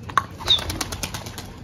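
A pigeon is released and flaps off, giving a short burst of rapid wingbeats up close, with a faint chirp near the start.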